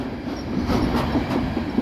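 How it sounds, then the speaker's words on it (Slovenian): A train passing on a railway line in Ljubljana, a steady close rumble of rolling wheels with faint squeal and rhythmic clicks over the rails, no voices. "No, pospremimo tale vlak."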